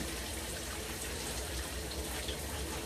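Steady broadband rush of running water, like a shower or tap, flowing continuously and fairly close while shampoo is rinsed from 4a/4b hair during a wash-and-go routine, with no talk.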